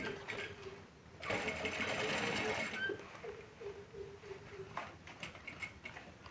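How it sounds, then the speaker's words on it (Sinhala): A sewing machine stitches the seam of a homemade school bag, running in steady bursts with brief pauses between, close and moderately loud with no talking over it. "අනිත් පැත්තටත් මහගෙන යනවා."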